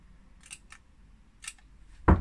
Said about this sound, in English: I cut small clips into the pattern notches to make it easier to mark them on the fabric itself.